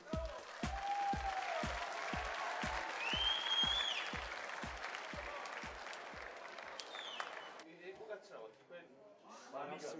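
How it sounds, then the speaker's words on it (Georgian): A studio audience at a televised Georgian talent show claps in a dense, loud burst for several seconds alongside steady rhythmic beats, then thins out as speech and music take over near the end. "ტაში მეგობრებო, ტაში."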